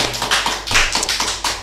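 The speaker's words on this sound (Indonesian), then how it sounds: "semangat tepuk tangan lagi ya" Podcast hosts clap their hands in a quick run of close, loud, sharp claps, a little uneven in rhythm, with no talking over them.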